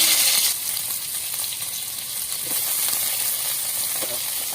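Sliced onions sizzle in hot coconut oil with fenugreek seeds, a steady crackling hiss that is loudest at the start and then settles into a continuous close fry with scattered pops.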